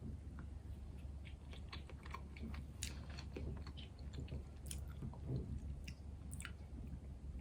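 Someone chews a bite of oily sakura cake topped with cranberry-like pieces, soft close-up mouth sounds with small squishy clicks and faint crunches in a quiet room.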